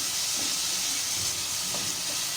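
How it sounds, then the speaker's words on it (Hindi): Cubed chicken frying with ginger garlic paste in a pan gives a loud, steady, unbroken hiss of sizzling oil, close up and without speech. "इसको अच्छी तरीके से भून लीजिएगा कि जब तक ये चिकन गल ना जाए"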